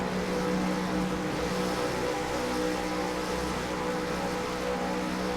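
V8 Supercars sit on the starting grid at Oulton Park, their engines making a dense, loud, unbroken droning rumble that holds steady throughout, with no voices.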